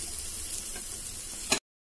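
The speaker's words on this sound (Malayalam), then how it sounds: "ബ്രൗൺ കളർ ആകുന്നത് വരെ നമുക്കൊന്ന് വറുത്തെടുക്കാം." Shallots sizzle steadily in hot coconut oil as they fry toward brown, a dense, even crackle that runs close and alone until a brief louder stir near the end, then cuts off.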